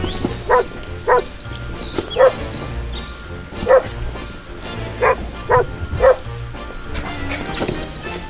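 A dog barks in short sharp yips, about eight of them in an uneven rhythm, fairly near, over a soft background on a sandy beach with no one speaking.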